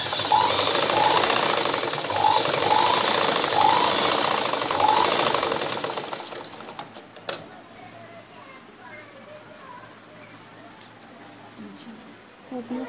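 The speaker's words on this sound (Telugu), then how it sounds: "ఈ విధంగా షేప్ పడ్డ దగ్గర 2 times స్టిచ్చింగ్ చేసుకోవాలి." An electric sewing machine stitches blouse darts in a rapid steady whir for about six seconds, then stops, leaving quiet handling noises and faint background sounds.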